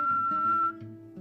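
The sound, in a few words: person imitating a whistle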